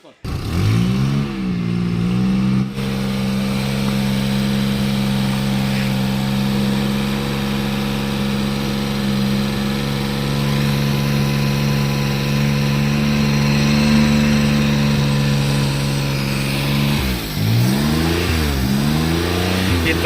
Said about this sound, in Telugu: మనం కార్బొరేటర్ ఫ్లష్ చేసేటప్పుడు ఇంజిన్ అయితే రన్నింగ్లో ఉండాలి.